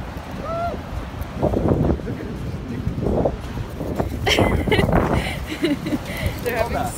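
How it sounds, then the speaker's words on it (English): Strong gusty wind buffets the microphone on a beach, with a low rumbling roar of big surf underneath and voices talking intermittently. "Or actually, it's super windy."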